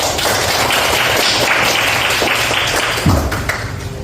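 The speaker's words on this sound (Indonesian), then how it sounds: "Ini untuk teman-temannya yang tadi membacakan bersiap kasih tepuk tangan dulu ya." A high school Islamic education class at SMAN 1 Seputih Surabaya in Central Lampung claps for classmates who have just read aloud, a dense, loud patter of many hands that continues steadily throughout.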